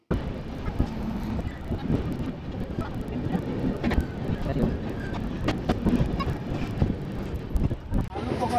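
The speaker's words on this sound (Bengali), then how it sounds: "আরো একটি ট্রেনকে ক্রসিং করার সময় ক্যামেরা বন্দি করলাম।" Rumbling rush of an Indian Railways train passing close by, with rhythmic clatter of wheels on rails and wind buffeting the microphone.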